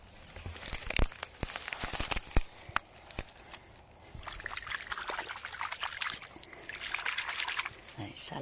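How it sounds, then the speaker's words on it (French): A moss agate stone is rinsed by hand in water, giving splashing trickles and sloshes in uneven bursts, with a voice talking faintly underneath. "On va mettre dans l'eau parce que juste avec mon spray, c'est pas assez pour laver."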